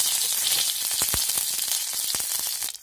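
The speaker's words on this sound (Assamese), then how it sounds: "তেলখিনি গরম হয়ে গেল এটা আমি বস্তুখিনি দিয়ে দিম" Pakora ingredients dropped into hot oil for Assamese pokori curry, a loud bright sizzle with sharp crackles and pops scattered throughout, close and continuous, fading slightly at the end.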